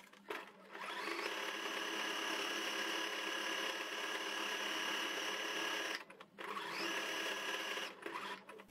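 A sewing machine runs a zigzag stitch in brown thread on a towel, a steady loud whirring hum held for several seconds, a brief pause, then a second run of stitching.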